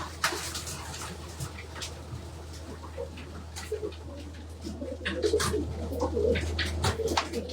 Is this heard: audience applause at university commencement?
no